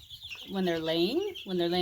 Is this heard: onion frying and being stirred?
no